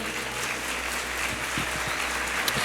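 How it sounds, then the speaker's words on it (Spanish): Church congregation applauding during a sermon, a thick sustained wash of many hands clapping, with low thumps underneath. "dar un aplauso al Señor"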